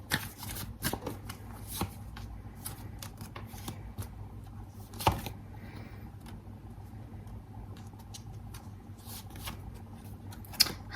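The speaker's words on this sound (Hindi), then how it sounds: "यहाँ से भी मैं कुछ कार्ड निकालूंगी" Tarot cards being shuffled and drawn by hand, a continuous soft papery riffling and flicking with occasional sharper snaps, close and fairly quiet, no talking.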